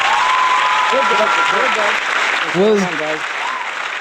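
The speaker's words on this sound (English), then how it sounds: "let's give a round of applause to Aaron and Parth" A live podcast audience gives loud, continuous applause for two guests, with several voices talking and whooping over the clapping.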